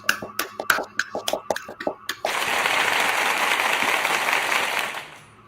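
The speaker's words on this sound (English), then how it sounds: "give a good, gracious round of applause to Brother JC." After a few seconds of rhythmic hand claps and snaps, a burst of applause breaks out and continues steadily before fading out.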